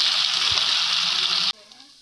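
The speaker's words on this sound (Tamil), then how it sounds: "நல்லா ஃப்ரை ஆகட்டும்" Finger banana slices frying in hot oil: a loud, steady, close sizzle that cuts off abruptly after a second and a half, leaving a faint background.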